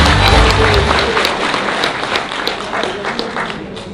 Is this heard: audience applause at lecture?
yes